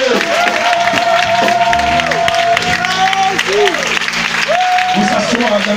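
A church congregation claps and cheers continuously, a dense steady wash of applause, while a loud voice talks and calls out over the crowd.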